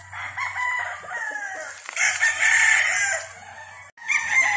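A rooster crows at a gamefarm, one loud close drawn-out call with a low hum in the background and a second call beginning at the end.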